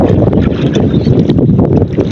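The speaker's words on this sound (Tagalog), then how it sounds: "Malakas ang hangin." Strong wind roars and buffets the microphone in a constant loud rumble over choppy sea, with faint splashing and creaking mixed in.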